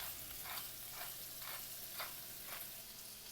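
Sweet potato home fries crackle in a pan after being seasoned with salt and pepper, a quiet, steady sizzle with soft rhythmic swells about every half second, with no voices.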